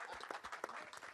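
An audience at a film teaser launch gives a brief burst of applause, steady dense clapping that stays moderately loud, with a faint murmur beneath it.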